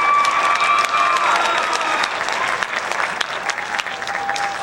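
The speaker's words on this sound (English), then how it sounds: "Give them another round of applause," Audience members at a high school jazz concert clap in a sustained burst of applause, loud and dense, holding steady before easing slightly toward the end.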